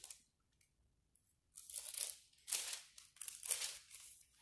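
Bible pages are leafed through nearby in a quiet room, with a few soft, crinkly rustles, each page turn a brief papery swish.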